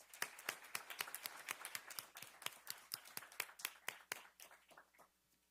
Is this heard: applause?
yes